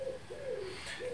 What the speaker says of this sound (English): that bloody pigeon